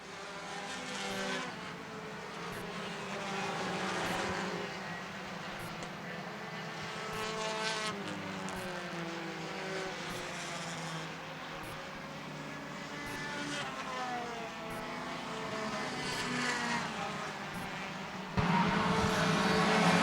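Race cars roar around a concrete oval track, engines droning and swelling as a spread-out field passes, loud and continuous with the sound building near the end.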